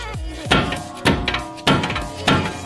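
Hammer tapping a tie rod end loose on a BMW 340i, four sharp metallic strikes spaced about half a second apart, close and ringing briefly after each blow.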